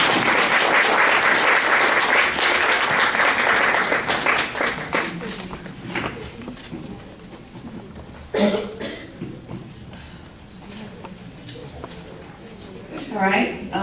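Applause and cheering from a poetry slam audience at a high school, loud for the first few seconds before fading into scattered coughs, murmurs and talking.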